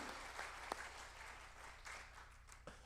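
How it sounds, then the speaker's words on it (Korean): An audience at a gathering of elder statesmen in a Lotte Hotel hall applauds, a soft, distant wash of clapping with a few sharper individual claps standing out. "큰 박수 한번 해주시기 바랍니다"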